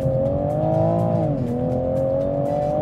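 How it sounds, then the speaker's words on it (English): A Toyota Supra MK5 engine revs hard under acceleration, a loud, steady droning exhaust note that climbs, dips briefly as the pitch drops, then settles and holds, heard close from inside the car with no talk. "Like the way the RPM builds up, you don't even have enough time to shift."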